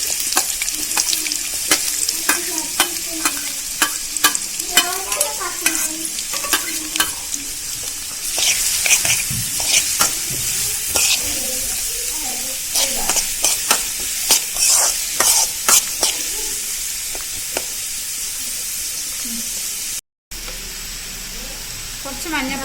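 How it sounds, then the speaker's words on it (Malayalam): Chopped onions sauté and sizzle in a hot pan for an egg biryani, with steady frying crackle and repeated stirring scrapes throughout, loud and close, with no talking. "3 സവാള അരിഞ്ഞത് ഇതിലേക്കിട്ട് നന്നായി വഴറ്റിയെടുക്കുക."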